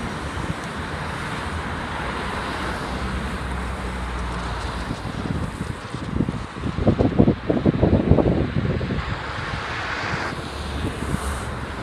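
Strong wind blows across an open building site in Yerevan, a broad continuous rumble and roar that swells in gusts through the middle.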